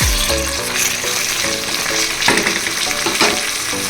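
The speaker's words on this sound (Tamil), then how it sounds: "இது நல்லா கொஞ்சம் வதங்கட்டும்" Mint leaves sauté in a hot pan for potato biryani, a loud, close, continuous sizzle with repeated scraping stirs of a spoon against the pan.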